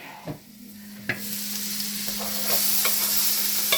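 Bacon fries in a pan with a loud, steady sizzle that swells in the second half, broken by a few sharp scrapes and clicks as it is stirred; no voices.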